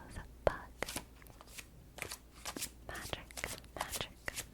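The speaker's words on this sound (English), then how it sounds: "I was wondering why my shuffling was like weird." A deck of tarot cards, with its booklet still tucked inside, is shuffled in quick, uneven bursts of papery riffles and slaps, close and fairly quiet, with soft whispery voice sounds around it.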